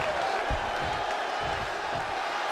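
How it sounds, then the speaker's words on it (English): A loud WWE 2K23 video game arena crowd roars and cheers continuously, a dense close wall of noise with commentary-like voices mixed in. "The sound of this crowd is deafening"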